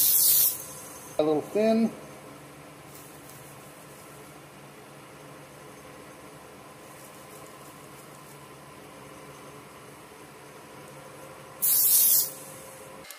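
Activator is sprayed onto a turquoise stone inlay on a purpleheart slimline pen, giving two short, close hiss bursts early on and one longer, loud spray burst near the end, with brief talk in between.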